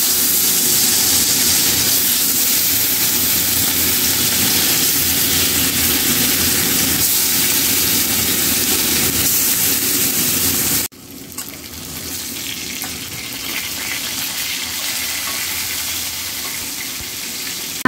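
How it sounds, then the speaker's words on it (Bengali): Fish frying in hot oil in a wok, a loud, steady sizzling hiss that carries on alone, then drops in level and continues more softly after about eleven seconds. "তেলটা গরম হয়ে গেছে কারণে মাছটি দিয়ে দেবো আমি"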